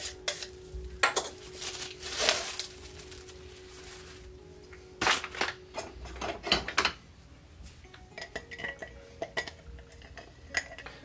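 A jar of sourdough starter is opened and handled, producing scattered glassy clinks, knocks and clatter in short bursts with quiet gaps between, and no talking.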